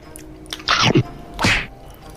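Mango-flavoured jelly candy bitten and chewed close up, two short squishy, crunchy bursts with brief quiet between them.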